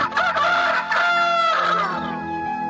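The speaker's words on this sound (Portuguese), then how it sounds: "E imediatamente o galo cantou." A rooster crows once, a loud close cock-a-doodle-doo with a rising then long drawn-out falling call, heard clearly on its own.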